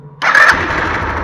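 A Kanuni Mati 125 motorcycle engine starts up close by, a sharp burst of cranking and ignition settling straight into a steady, loud idle.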